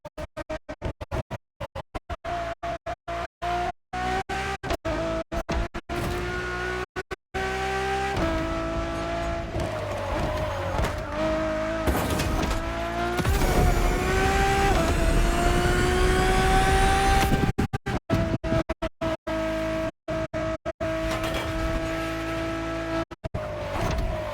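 A Ferrari road-legal Formula One car in The Crew Motorfest racing game runs with a loud, high-pitched engine whine that climbs and drops through repeated gear changes and revs, steady and close throughout with no talk.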